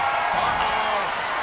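A video game arena crowd in WWE 2K22 roars in a steady, dense wash of cheering and chanting, loud and continuous throughout without a break.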